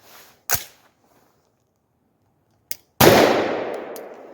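Rifle fitted with a Blast Forward muzzle brake and adjustable gas block firing two loud, sharp gunshots, the second ringing out with a long decaying echo, plus a small click in between.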